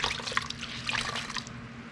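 Warm water trickles and drips from a wet terry towel in a workshop, soft close dribbling and splashing for a couple of seconds.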